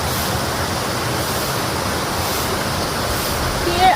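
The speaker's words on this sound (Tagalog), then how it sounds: "Welcome to Pinsal Falls!" Steady broadband rush of Pinsal Falls, a waterfall in Lupao, Nueva Ecija, roaring continuously and evenly at close range with no pauses, with a slight swell just at the end.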